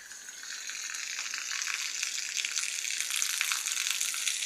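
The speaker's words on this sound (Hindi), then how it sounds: "तिरपाल के ऊपर जो है बारिश आ रही है और वहाँ से जो पानी है वो नीचे की तरफ जो है टपक रहा है" Rain on a tarp with water dripping down off it, a steady hissing patter that swells gradually louder, heard alone without talk.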